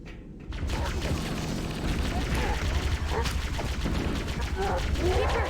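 Rapid bursts of plasma rifle fire in Halo: Combat Evolved crackle alongside other in-game gunfire and explosions, continuous and loud through the clip, with a voice speaking over the action.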